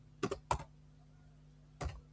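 Quiet, close keyboard typing: a quick pair of key taps, another tap, then a last keystroke after a short pause, with no talking.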